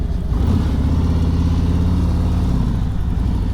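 A motorcycle rolling at about 9 miles an hour, its engine giving a steady, loud mid-pitched drone throughout with slight shifts in tone, no talking over it.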